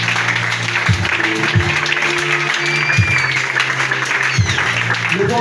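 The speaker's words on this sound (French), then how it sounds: "On s'en va acclamer le Seigneur." Church congregation clapping steadily in praise of the Lord during a worship service, a dense continuous applause with a few sharp low thumps and faint voices underneath.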